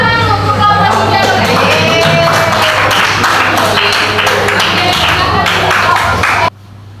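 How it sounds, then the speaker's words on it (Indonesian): A classroom group cheering on the Cicero group with loud, dense clapping from many hands close by, sustained for several seconds before stopping abruptly, with voices mixed in. "tepuk tangan untuk kelompok Cicero"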